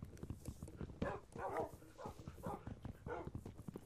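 Dogs barking in the Minecraft video game, a series of quiet, rhythmic bark bursts repeating about every half second, heard faintly and alone without talk.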